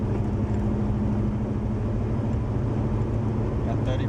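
A 1974 Chevy Nova engine accelerating through the gears, a steady loud drone with a constant low rumble, heard from inside the car with someone talking over it.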